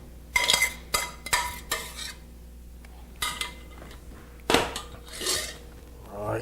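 A spoon scrapes and clinks around a pot of boiling shrimp alfredo sauce, several irregular stirring bursts with metallic knocks close by.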